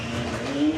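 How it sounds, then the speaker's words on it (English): A McLaren at a street car drag racing event launches off the line, a steady, loud engine roar with a rising whine and a brief surge near the end, no talk heard. "The Land Rover reacts and goes nowhere. But the McLaren is gone."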